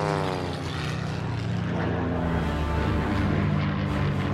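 A WW2 Hawker Hurricane fighter flies with its propeller engine droning loudly and steadily throughout, a close, continuous throbbing roar with no speech.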